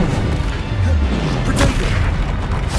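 A Bombarda spell goes off in Hogwarts Legacy, a heavy booming blast with a crashing burst partway through, set in a loud, constant wash of game noise.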